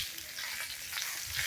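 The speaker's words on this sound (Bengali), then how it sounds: "ভাজা দিতেছি" Food sizzles and crackles in a pan over a wood-fired village stove during morning cooking for guests. The frying hiss is quiet but steady, with occasional stirring, and no voices are heard.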